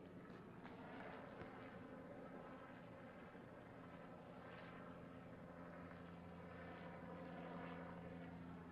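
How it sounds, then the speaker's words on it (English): A low, droning helicopter rotor and engine noise holds steady throughout, faint and distant overhead during a police standoff in Santa Barbara, with no voices. "And there is still a helicopter flying overhead."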